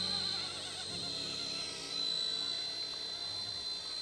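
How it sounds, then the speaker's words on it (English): A radio-controlled coaxial helicopter hovers with a steady high-pitched rotor whine and motor buzz, close and continuous throughout. "these are coaxial helicopters"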